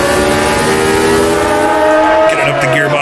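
Race car engine in the sim racing game Automobilista 2 at the 1983 Race of Champions, a loud steady harmonic whine climbing through the revs, then dropping as the gear changes near the end.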